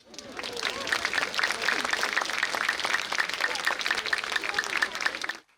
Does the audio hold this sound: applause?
yes